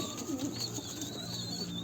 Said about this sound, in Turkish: Arkadaşlar kuşlarımız bunlar.